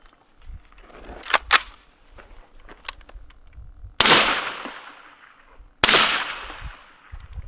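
Two sharp suppressed rifle shots through a Surefire RC2 full-size suppressor ring out a couple of seconds apart outdoors, each with a quick fading tail, after some faint handling noise and clicks.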